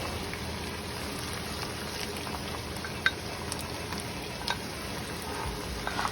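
Diced onion, green pepper and jalapeno for lasagna being mixed in a pan give a low, even sizzle with a few faint clicks and scrapes of stirring, heard at a quiet level.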